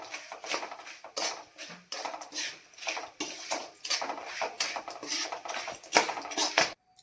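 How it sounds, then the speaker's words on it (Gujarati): A spoon stirs grated coconut into gundar pak in a pan with a quick, rhythmic run of scraping strokes, fairly close and without speech. "હવે એમાં આપણે ટોપરું ઉમેરી દેશું તેને પણ આપણે મિક્સ કરી લેશું"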